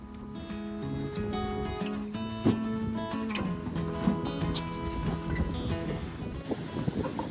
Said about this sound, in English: Just another beautifully windy day in Montana